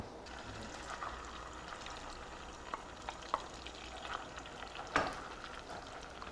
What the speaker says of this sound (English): We're just sauteing the onion for a few minutes until it starts to take on a color